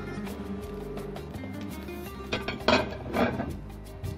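Vegetables being stirred in a cooking pot for kabsa, with dried lime, green chilies, zucchini and chopped carrot; soft scraping and clinking of a utensil against the pot, quiet at first, then a few louder knocks near the end.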